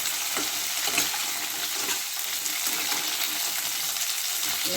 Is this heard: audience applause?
no